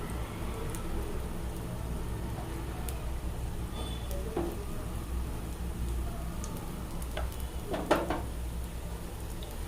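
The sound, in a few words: rava kuzhi paniyaram batter frying in oil in paniyaram pan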